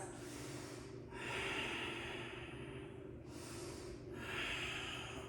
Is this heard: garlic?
no